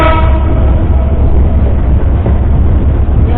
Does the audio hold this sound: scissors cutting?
no